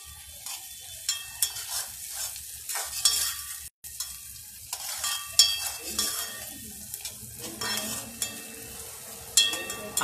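Sliced onion with ginger and asafoetida being sautéed in a pan, with intermittent stirring scrapes and utensil clinks over a light, continuous sizzle, no voices.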